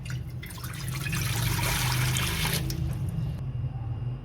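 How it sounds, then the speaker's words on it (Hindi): A glass of water is poured into a pressure cooker sitting on a stove. It makes a steady, close trickling splash that swells for a few seconds and then stops. "चूल्हे पे प्रेशर कुकर आकर उसमें 1 गिलास पानी डालना है जी"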